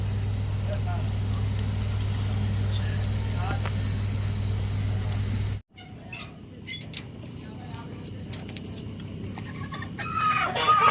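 A backyard chicken, among birds recovering from respiratory disease, gives scattered clucks over a steady low rumble that cuts out abruptly, then continues amid rustling and faint voices, with occasional brief calls near the end.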